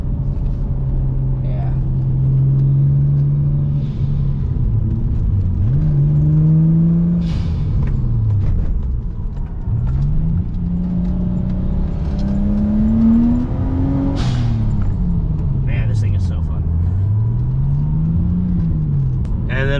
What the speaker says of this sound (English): So we're just driving, seeing where to go.